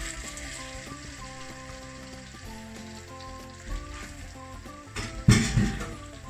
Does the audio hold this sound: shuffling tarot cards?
no